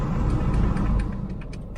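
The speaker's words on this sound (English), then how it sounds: "it just sounds like a truck engine" MINI Countryman engine running with the air conditioning paused on a very hot day in Sydney, a steady low rumbling idle heard from inside the car, fairly loud and continuous and easing slightly toward the end.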